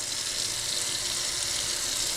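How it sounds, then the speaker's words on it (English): Water runs steadily into a cast-iron Dutch oven being cleaned after a salt scrub, a close, continuous splashing hiss with no break and no voices. "now we're going to put a little bit of water in"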